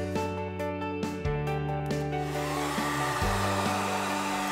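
A heat gun blows steadily while warming vinyl wrap pressed into a deep channel, a continuous close airy roar with a humming motor tone that shifts pitch slightly a couple of times.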